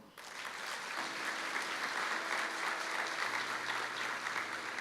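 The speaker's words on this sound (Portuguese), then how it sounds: "Dê outro aplauso a Ele" Steady applause from a church congregation, clapping continuously and evenly for several seconds, with a faint voice beneath it.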